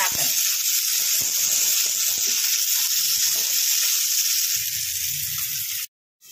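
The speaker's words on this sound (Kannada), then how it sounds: "ನೋಡಿ ಹೆಂಗೆ ಫ್ರೈ ಆಗೈತೆ ಅಂತ ನೋಡಿ" Bangada fish coated in masala fries on a hot tawa with a loud, continuous hiss and sizzle. Soft knocks and scrapes of cookware sit underneath, and the sound cuts off abruptly just before the end.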